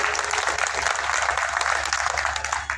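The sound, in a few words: audience applause at Buddha festival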